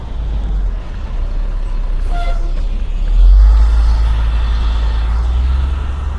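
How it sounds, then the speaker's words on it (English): Armored money trucks at their station: a close, heavy low engine rumble swelling slightly midway, with a brief hiss of air and faint traffic around. "there's several different money trucks over here"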